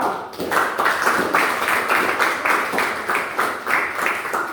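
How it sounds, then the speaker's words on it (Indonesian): An audience applauds a student group after their presentation, a fairly loud, steady wash of clapping that holds at an even level throughout, with slight rhythmic pulses and no voices over it. "Dan kita berikan tepuk tangan yang meriah kepada kelompok 2."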